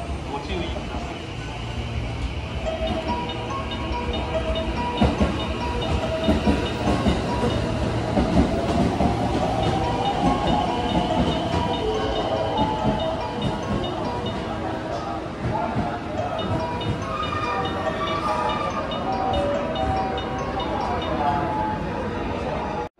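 A 289 series limited express train rolls into a Japanese station during evening rush hour with a steady rumble and rhythmic wheel clatter, loud and close, over a crowded platform with people talking.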